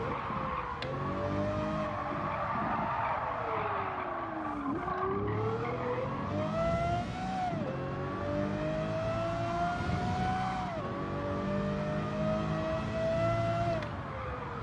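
A race car in Gran Turismo 7 roars continuously at close range, its engine pitch climbing through gears and dropping at each shift, with tire noise underneath throughout.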